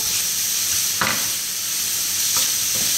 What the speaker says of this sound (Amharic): እየጠበስኩት ነው ማለት ነው።